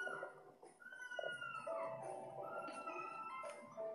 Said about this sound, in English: My dog is whining like crazy.